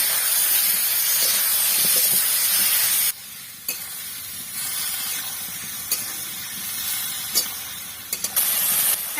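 Soaked spices hit hot oil with fried potatoes in a pan for a spicy vegetarian potato dum, giving a loud steady sizzle that drops sharply partway, then continues with stirring scrapes and small pops.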